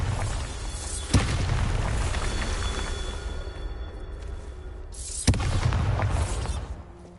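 Bombarda blasting spell from Hogwarts Legacy going off twice: two sharp booming blasts with rumbling tails, one early and one later, over steady game ambience and background music.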